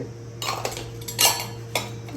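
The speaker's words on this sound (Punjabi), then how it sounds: "ਇਕੱਠੇ ਕਰਦੇ ਪੁੱਤ ਸਾਰੇ ਭਾਂਡੇ" Dishes and cutlery being gathered up in a household, a few loud clinks and clattering bursts of metal and crockery over a steady low hum, with no talking.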